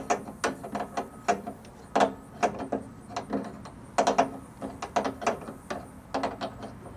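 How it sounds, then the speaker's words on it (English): Ratchet wrench tightening a fitting on air line hookups of a Peterbilt 389 truck, rapid clicking bursts in irregular strokes, close and clear, with no speech. "Now we're just gonna tighten it down."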